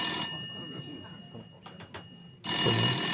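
A telephone rings with bright, buzzing bell tones that stop, leave a quiet gap with faint clicks, then start ringing again loudly.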